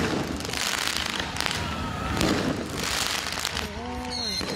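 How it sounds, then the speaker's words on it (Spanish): Fireworks are set off during night unrest in Antofagasta, Chile, with several bursts and crackling pops rising out of a noisy street crowd, followed by a voice near the end. "Carabineros atacados con fuegos artificiales."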